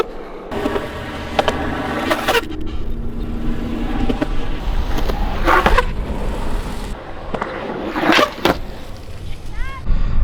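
A skateboard on Slappy trucks rolls and carves turns on pavement, wheels grinding steadily, with a few sharp clacks and scrapes along the way.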